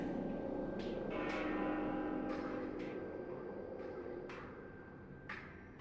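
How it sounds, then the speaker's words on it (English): A bell rings in Elysium atop the world tree in Xenoblade Chronicles 2, with about seven distinct chimes in an uneven rhythm, each ringing out over a soft sustained tonal drone and fading slowly. "There's the bell."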